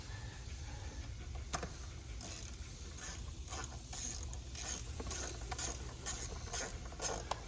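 A 10 mm socket on a ratchet tightens plastic-panel bolts on a Honda CRF150 dirt bike, giving faint, quick clicking bursts repeated in short runs, close by and with no talking.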